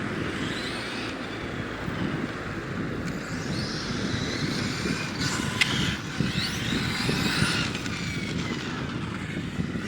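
A Hyper VT nitro RC car driving on a dusty parking lot, its small engine giving a continuous buzzing whine that rises and falls as it speeds around, fairly loud and unbroken for the whole stretch.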